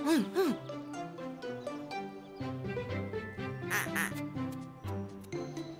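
A cartoon duck quacks repeatedly in bright, pitched, voice-like bursts over a busy children's-song backing with other animated voices.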